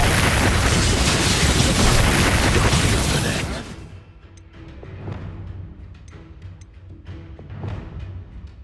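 A blasting Expulso explosion spell in Hogwarts Legacy: one loud, dense burst that rumbles for a few seconds, then drops away into quieter combat noise with small pops and thuds.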